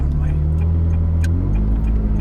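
Ferrari 360 Challenge Stradale engine, a loud, close, steady low rumble and rev with a strong deep tone throughout, and faint voices in the background.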